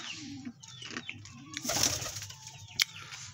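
A pigeon coos softly and briefly flaps its wings near a nest where eggs were placed, with a sharp wing burst near the end and light background bird sounds.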